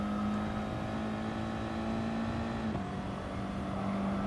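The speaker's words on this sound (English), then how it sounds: "it does a quick upshift there" A race car engine in GT Sport drones at high revs with a steady whine, then snaps through a quick upshift that briefly drops the pitch before it climbs again, loud and constant.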